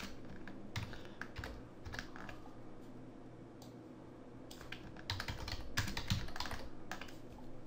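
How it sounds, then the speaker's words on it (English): Fast bursts of typing on a computer keyboard while a title is entered into a 3D logo box intro template in After Effects, with uneven clusters of key clicks, close and fairly quiet over a low steady hum. "Let's say we type in the title."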